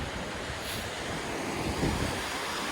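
Heavy water pours from a waterfall in the Uinta Mountains foothills of Utah, a dense, steady close-up roar with no voices.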